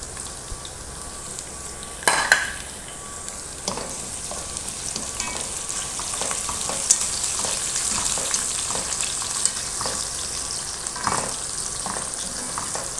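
Green chilies frying with ginger and garlic in a pan give a continuous bright sizzle with occasional stirring scrapes and a sharper clatter early on, steady and close with no talking.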